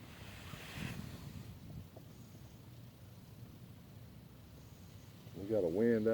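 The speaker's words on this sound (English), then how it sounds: "We got a wind out of the south," Wind out of the south blowing across open water on a fishing trip, a soft steady rush with light wave noise, joined near the end by a brief louder burst of movement close by.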